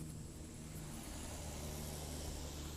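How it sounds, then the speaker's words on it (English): Cars passing on a nearby road beside a rural yard, a faint continuous traffic rumble and hiss in the background, with no talking. "you hear cars going by."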